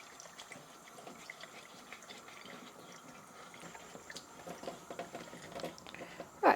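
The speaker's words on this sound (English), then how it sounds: "now I'm getting water all over the place" Tepid water splashes and dribbles while clear vinyl is wetted by hand, a soft, close, irregular wet patter with small splashes and handling noises, quiet throughout.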